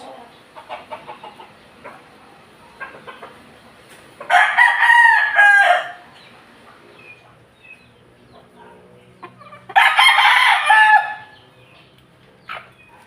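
A kanaway x grey gamefowl rooster crows twice, loud and close, each crow lasting over a second with a long pause between, while softer clucks and small farmyard sounds fill the gaps.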